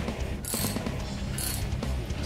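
A ratchet wrench clicks in quick bursts as bolts are snugged on an Acura CL during upper control arm and brake work, close and crisp, in repeated short pulls.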